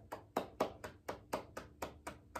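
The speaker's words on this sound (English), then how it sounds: "clap your hands" Hands clap in a steady rhythm, about ten sharp, evenly spaced claps close by, alone without talk, during a preschool circle-time Groundhog Day activity.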